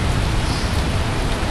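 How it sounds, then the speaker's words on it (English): Heavy rain falls outdoors during a yard flood, a dense, steady broadband hiss with low rumble, continuous and close throughout, no voices. "It's been raining pretty good."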